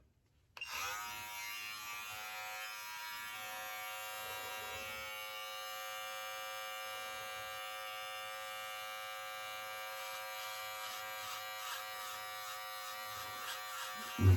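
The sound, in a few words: razor shaving a beard at the sideburn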